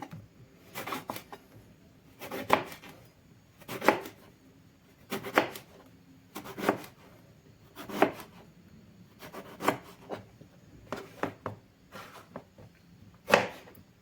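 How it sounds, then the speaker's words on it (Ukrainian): Regular knife chops on a cutting board, about a dozen crisp strokes slicing eggplant into rings at a steady, unhurried pace, close up and alone. "Для початку наріжу їх кільцями."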